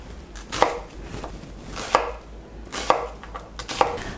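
A knife chops a quarter of an onion on a cutting board, with four sharp close knocks spaced unevenly over a few seconds amid faint cutting rustle.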